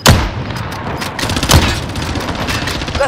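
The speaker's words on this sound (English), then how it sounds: "They're shooting at me!" Dense gunfire in Call of Duty Warzone on Rebirth Island, rapid overlapping shots and bursts with a sharp loud crack at the start and another midway, continuous and close throughout.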